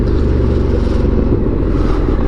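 An Indian FTR1200 motorcycle engine rumbles loud and steady while riding at slower speed, with a deep continuous throb and wind noise close to the rider.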